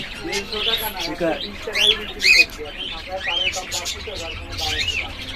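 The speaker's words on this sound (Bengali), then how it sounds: "এখানে আপনার আছে বাজারিকা পাখিও আছে ছোট যে ফিন্স পাখি সেই পাখিটাও আছে" Budgerigars and small finches in a bird shop, with a dense, loud chorus of overlapping chirps, tweets and squawks close by, continuous throughout while someone speaks over them.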